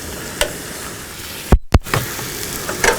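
Sloppy joe mixture of meat, onions and peppers cooking down in a pan, giving a steady sizzle with a few sharp utensil clatters as it is stirred, including a brief near-silent break midway.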